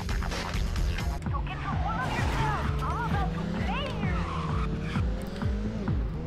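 Racing cars in the Midnight Club II video game rev and roar at the start of a race, steady loud engine drone with rising and falling whines and tire squeals, under a voice talking throughout.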